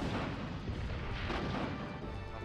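Rockets strike Nemesis in the video game Resident Evil 3, making a dense, loud rumble of booming explosions and crashing debris that rolls on without a break.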